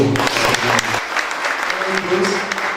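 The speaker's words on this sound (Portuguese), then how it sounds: "Um aplauso para você." Audience applause at a literary festival panel, a dense wash of many clapping hands filling the space, with a voice briefly speaking over the start.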